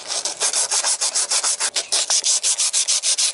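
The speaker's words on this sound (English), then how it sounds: "I'm getting a lot of rust off of that." A rapid, rhythmic back-and-forth scrubbing scrapes rust off the steel frame of a 1994 GMC Sonoma truck, a loud, close, even series of gritty strokes about six per second with no talking.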